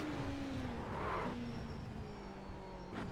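Sim racing game car engine heard through a Simagic Neo X round wheel setup, holding a steady tone with a brief rise and falling pitch as the throttle is blipped on downshifts, no talking.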